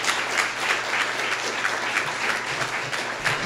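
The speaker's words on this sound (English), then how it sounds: "A round of applause for Clark." A small audience at a technical talk meetup claps steadily for a speaker, with an even, moderately loud patter of hands and no voices.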